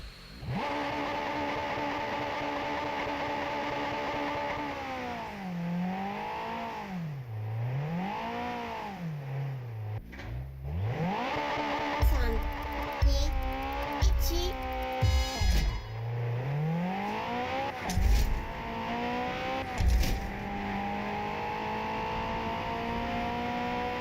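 A car engine in the Japanese Drift Master driving game revs up and down repeatedly while the tyres are warmed, rising and falling pitch sweeps, then sharper bursts of throttle and bangs toward the end, loud and continuous.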